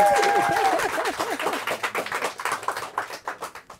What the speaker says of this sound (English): All right, everyone clap.